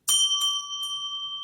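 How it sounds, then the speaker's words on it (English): A bell struck once with a sharp, clear ring, its steady tones hanging and slowly fading over a second and a half, with a couple of softer touches near the start; no talk. "That was a horrible sound. I mean, I like this bell"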